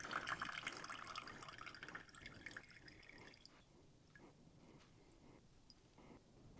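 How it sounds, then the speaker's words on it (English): Engine oil drains from the oil pan of a 3.0 Duramax diesel, heard as a close liquid pour and splash that tapers off into quieter scattered drips. "We're going to go ahead and drain to see how much we get out of here."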